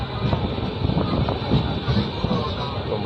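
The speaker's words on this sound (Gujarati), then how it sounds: "તો મહેસાણા રેલવે સ્ટેશનમાં તમે જોઈ શકો છો મિત્રો, ટોટલ 6 પ્લેટફોર્મ આપેલા છે।" Train at Mehsana railway station platform, a steady loud rumble of rolling wagons and rail noise throughout, with no clear pauses.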